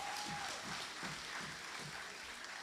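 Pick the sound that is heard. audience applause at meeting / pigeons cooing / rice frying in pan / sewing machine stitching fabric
audience applause at meeting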